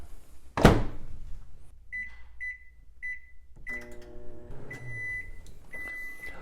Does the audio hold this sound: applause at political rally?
no